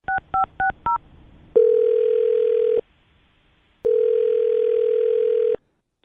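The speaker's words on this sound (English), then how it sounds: "I'm going to dial her phone number right now" A quick run of four short dialing beeps, then a steady telephone dial tone sounds twice with a pause between, clear and close, during a radio show phone call.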